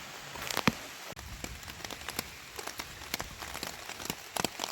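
Rain falling on a tarp and the surrounding forest along the Appalachian Trail in Georgia, a close, steady patter with irregular louder drops striking the tarp.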